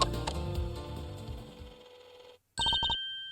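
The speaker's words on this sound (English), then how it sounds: "Mr. Edgeworth, that's Judge Gavel's cell phone." Judge Gavel's cell phone rings on a tape recording in the Ace Attorney Investigations video game, a short electronic ring burst after a stretch of fading background music and a brief silence.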